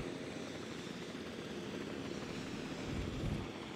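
A steady, droning helicopter rotor and engine hum in Jurassic World Evolution 2, a continuous, moderately faint whirring wash with no clear breaks.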